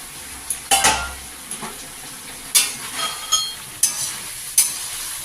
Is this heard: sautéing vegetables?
yes